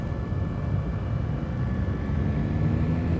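A light aircraft engine drones in a steady low hum during a go-around in the X-Plane flight simulator, constant and close with no other sounds.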